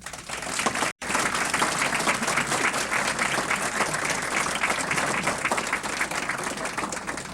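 Conference audience at a council on foreign affairs bursts into sustained, dense applause welcoming a speaker, many hands clapping loudly and evenly for several seconds after a brief cut near the start.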